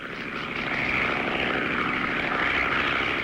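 A propeller-driven crop duster airplane drones steadily overhead in a classic cartoon, a continuous buzzing engine hum that swells slightly as it nears, alone without talk.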